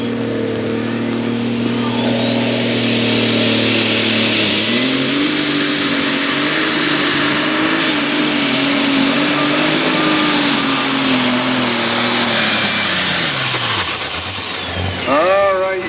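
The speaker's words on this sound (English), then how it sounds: "Thomas Bedgar with the Patriot 1066 International Super Stalker, 504 cubic inch with 2 turbos" A 504 cubic inch twin-turbo International 1066 pulling tractor engine at a tractor pull roars and climbs to a sustained high-pitched scream with a turbo whine, holding loud for seconds before cutting off abruptly.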